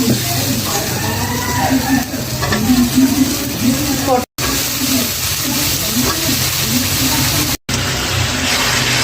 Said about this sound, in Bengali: একটু পটলগুলো ভালো করে কষিয়ে নিয়ে, আলু পটল একটু না কষালে ভালো রকম ফ্লেভারটা আসে না